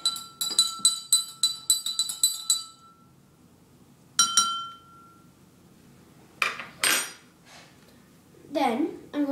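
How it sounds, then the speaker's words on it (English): A spoon clinks rapidly against a glass of water while stirring in food coloring, a quick run of bright chimes, then a single ring, followed by softer handling noises. "I'll take a spoon and stir around the food coloring so"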